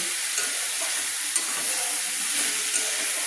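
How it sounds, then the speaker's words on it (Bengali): Shredded cabbage fries over a medium flame in a wok, giving a steady, close sizzle with soft scraping and stirring sounds throughout. "এইভাবে বাঁধাকপিগুলো মাঝারি ফ্লেমে কিন্তু ভেজে নিতে হবে, আর ঘন ঘন একটু নেড়ে নিতে হবে।"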